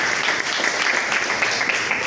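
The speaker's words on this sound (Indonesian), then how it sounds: "tepuk tangan." An audience at a university gathering applauds in a dense, loud burst of clapping that holds steady throughout.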